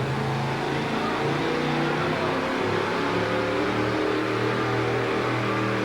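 A 1975 Chevrolet monster truck with a 482 cubic inch motor races at full throttle at a 1987 USHRA event in Tucson, its engine a loud continuous roar throughout.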